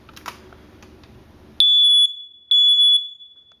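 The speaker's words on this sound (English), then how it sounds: "Just test the smoke detectors." After faint rustling, a loud piercing electronic beep from a smoke detector being tested sounds twice in long steady tones with a short gap between them.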